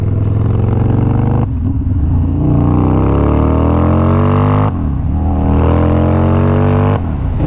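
A water-cooled Harley-Davidson motorcycle engine revs hard and close in repeated rising pulls, each climbing in pitch for a few seconds before dropping off and building again.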